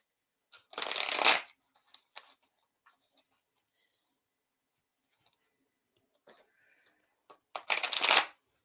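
A deck of cards is riffled in a quick fluttering burst, then a few faint ticks, and another shuffle follows near the end.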